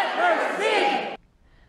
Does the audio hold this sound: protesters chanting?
yes